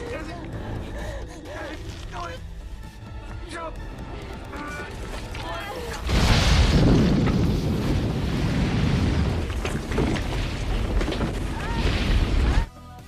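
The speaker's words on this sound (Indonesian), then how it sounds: "tidak lama kemudian bomnya meledak" A loud, sustained explosive roar erupts suddenly over a busy soundtrack, rumbling broadly for several seconds before cutting off abruptly.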